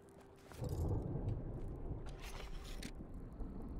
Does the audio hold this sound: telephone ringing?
no